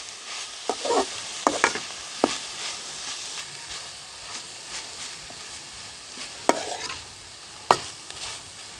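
Homemade mozzarella cheese is stirred and mixed in a bowl, giving soft wet scraping and squelching with a few sharp clicks of the spoon against the bowl, close and fairly quiet.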